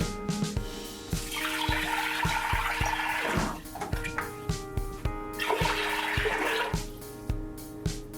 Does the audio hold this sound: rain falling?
no